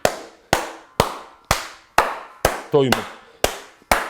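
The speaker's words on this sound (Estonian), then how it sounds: "Aga nüüd on tähtis järgmine osa, mida tehakse, on plaksutamine." Nine steady hand claps ring out close and loud at an even half-second pace to clear old energies from a room, with a brief spoken word slipped in between two of them.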